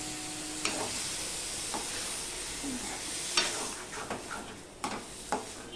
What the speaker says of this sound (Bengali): এবার যে আগে থেকে সিদ্ধ করে রাখা ডালটা আমি দিয়ে দিলাম।